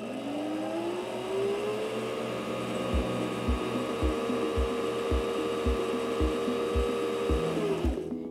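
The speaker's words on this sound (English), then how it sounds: "Then step on the foot control to resume winding." A Singer C5200 sewing machine winds a bobbin, its motor rising to a steady whine while a soft, regular ticking repeats about every half second before the whir winds down and stops.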